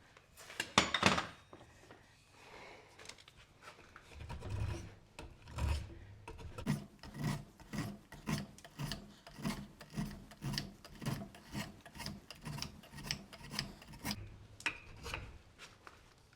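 Steady, rhythmic rasping strokes of a drawknife shaving an oak hammer handle, repeating every half second or so, close up with no talking.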